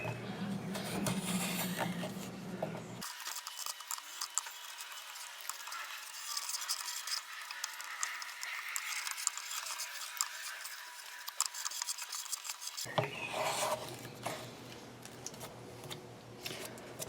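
A carving tool scoops wood from the inside of a branch being hollowed into a cup, giving steady, close scraping and rasping strokes that run continuously with no talking.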